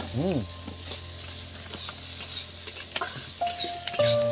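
Turmeric goes into a sizzling cauliflower paratha filling, with steady frying crackle and spoon stirring against the pan, several sharp clinks, and a short kitchen beep near the end.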